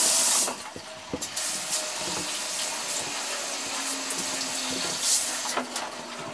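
Water from a rinsing hose or sprayer splashes steadily across a shower enclosure, a loud continuous hiss and patter with slight surges, heard up close with no talking.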